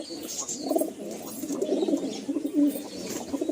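A male and female pair of Saharanpuri pigeons coo softly and repeatedly at close range, their low rolling calls overlapping in a steady murmur with light background noise.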